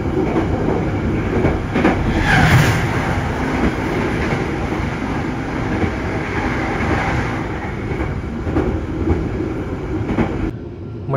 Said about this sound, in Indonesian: Meninggalkan stasiun Kuto Arjo, tercatat masih ada perbedaan waktu sekitar 2 menit